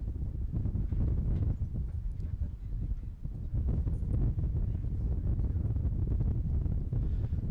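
Strong wind buffeting the microphone at the Horseshoe Indianapolis racetrack, a continuous loud rumbling roar with gusty surges and a brief lull, no other clear sounds through it.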